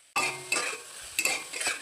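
Food frying in a pan and being stirred, with a spoon scraping in a few quick bursts of stirring over a steady close sizzle.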